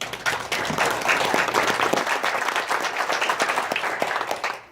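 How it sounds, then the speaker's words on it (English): A room full of people clapping for candidates being introduced at a local district debate: sustained, even applause of moderate loudness throughout, fading out right at the close. "Please give a round of applause."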